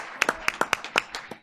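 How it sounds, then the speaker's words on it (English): A few scattered, sparse claps at a school board of education meeting honoring a retiring athletic director, about eight sharp separate hand claps, fairly faint and close, with no crowd swell. "Imbriani, give him a round of applause"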